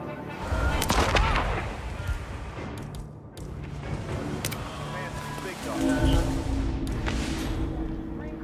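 Continuous rumbling blasts and booming explosions with sharp cracks, loud and dense throughout, like a chaotic battle scene in a video game.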